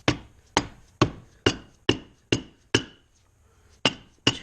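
A non-metal mallet taps a part into place during a Jaguar MKII engine rebuild. Ten sharp, evenly spaced strikes ring out close and clear, with one brief pause near the end. No one speaks.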